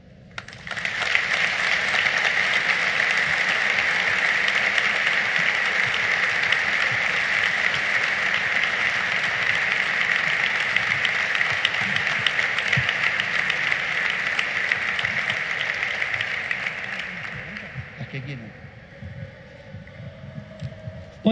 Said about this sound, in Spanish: le damos otro aplauso a Julio, un crack